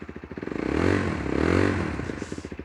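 A Junak SC125S 125cc motorcycle engine idles after a cold start, with a steady, even putter that swells slightly in the middle, close and alone.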